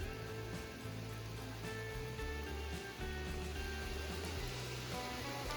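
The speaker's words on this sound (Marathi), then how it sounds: "पावसाने चांगली सुरुवात केली" Rain pours at a farmhouse near a flooded river as a continuous, fairly soft wash of noise with occasional drips, over a low steady hum; no voices are heard.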